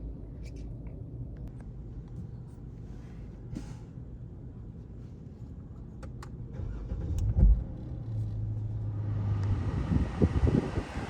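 A car driving on a Hawaii road: steady low engine and tire rumble from inside the cabin, swelling louder and rougher toward the end with a brief hum and rising road noise.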